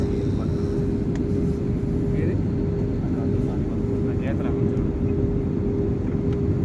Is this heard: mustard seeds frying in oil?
no